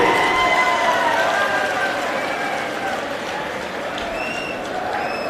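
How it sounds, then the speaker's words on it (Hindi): A large crowd claps warmly for Punjab chief minister Bhagwant Mann at a public event, a dense, sustained roar of applause with shouts and whistles over it, easing slightly toward the end. "एक बार जोरदार तालियों में अपना सारा प्यार दिखा दीजिए"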